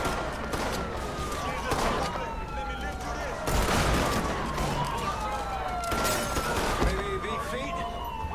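Gunfire in the open-world crime game Mafia III: repeated bursts of shots with police sirens wailing up and down behind them, the shots loud and rattling over a steady noisy background.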